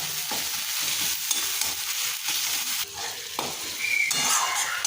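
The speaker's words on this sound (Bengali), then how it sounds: "1 মিনিট সময় ধরে লো টু মিডিয়াম হিটে ভালো করে মশলাটা কষবো, যাতে টমেটোগুলো গলে যায়" Masala with tomatoes stir-fried over low to medium heat for a prawn curry, a steady sizzle broken by repeated scraping stir strokes in the pan, close and continuous with no talk.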